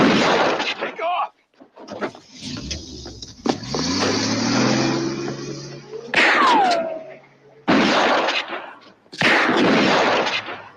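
Gunshots from a John Wayne film car chase, sharp like a .44 revolver, ring out as three or four loud broadband bangs spaced a second or two apart, mixed with film music and engine noise.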